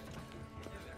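Horse hooves clip-clop in the video game Witcher 3 Blood and Wine, a quick, faint rhythmic clatter of hoofbeats lasting about a second, with faint game voice in the background.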